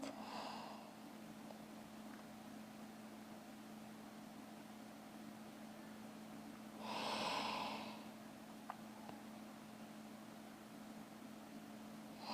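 Soft, faint breathing during a yoga forward fold: a short breath at the start and a longer, fuller exhale midway, set against a steady low room hum.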